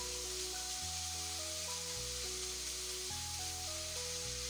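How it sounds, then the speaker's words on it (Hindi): Tamarind paste mixed with jaggery sizzles softly in a pan as a faint, steady hiss beneath louder background music. "इसके अंदर हम ये इमली का पेस्ट डालेंगे"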